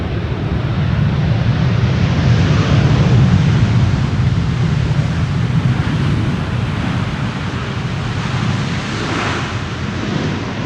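An Airbus A350 landing with thrust reversers deployed, a loud, dense rumbling roar swelling early then easing slightly, wind-like broadband noise throughout with no talking.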